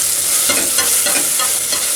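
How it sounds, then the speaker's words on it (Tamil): Chopped tomatoes sauté with softened onions in a pan for a yam sambar, a loud, close sizzle with rhythmic scraping as the mixture is stirred repeatedly. "நம்ம கட் பண்ணி வச்சுருக்கிற தக்காளியையும் இதோட சேர்த்துடலாம். தக்காளி நல்லா வதங்கட்டும்."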